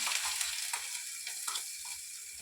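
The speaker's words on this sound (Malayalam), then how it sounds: "തേങ്ങ അരപ്പിടാം." Coconut paste sizzles in a pan with curry leaves, a soft, steady frying hiss with small crackling bursts, fairly quiet and without speech.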